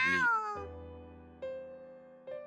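A kitten in a video game meows three times: a long, loud opening cry followed by two shorter, quieter mews with pauses between them, heard clearly alone.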